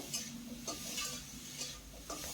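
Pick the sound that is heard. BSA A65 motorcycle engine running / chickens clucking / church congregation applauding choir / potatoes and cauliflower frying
potatoes and cauliflower frying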